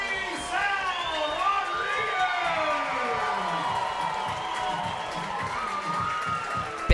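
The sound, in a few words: crowd roaring and cheering at baseball game, Athletic Park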